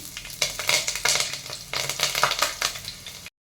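Cumin seeds and green chillies go into hot oil and crackle and sizzle close by, in uneven bursts that swell and fade before cutting off abruptly.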